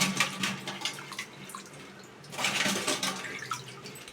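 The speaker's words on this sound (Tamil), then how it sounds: "நண்டு நல்லா வாஷ் பண்ணிக்கோங்க." Crab being washed under running water from a tap, a splashing, gurgling flow with uneven surges and a brief lull midway, close and moderately loud.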